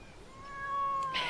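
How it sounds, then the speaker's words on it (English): A house cat meows close by in a quiet indoor room, one drawn-out rising and falling call lasting about a second, heard alone with no talk over it. "You have a cat."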